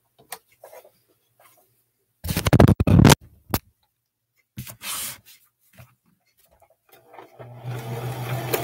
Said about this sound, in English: we're going to just sew down until we get to the dot